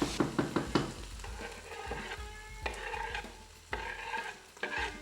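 Garlic cloves fry in a pan for a family spaghetti bolognese, with repeated scraping stirs over a steady close sizzle and sharp utensil knocks against the pan, no voices.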